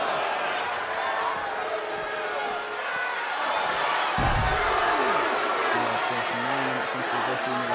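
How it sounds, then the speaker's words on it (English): Steady roar of an arena crowd in the WWE 2K20 wrestling game, a capacity crowd cheering throughout at full volume, with a commentator's voice running over it and a heavy thud midway. "Every person in this capacity crowd is on their feet, and with good reason."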